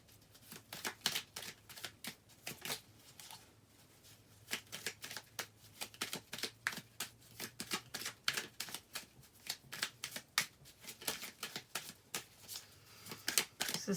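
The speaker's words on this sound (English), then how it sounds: "I pull some more cards" Tarot cards being shuffled and drawn by hand, a close series of quick, crisp riffling flicks and snaps in an irregular rhythm across the whole stretch, heard alone with no voices.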